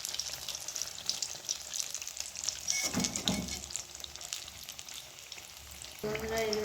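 Samosas with papad frying in hot oil, a steady close sizzle with occasional scraping and stirring as the pieces are turned.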